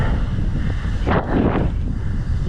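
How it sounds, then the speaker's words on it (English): A strong northeast headwind of about twenty miles an hour buffets the microphone in loud, constant roaring gusts, with a sharper blast midway, no voices. "It's a good 20 mile an hour headwind."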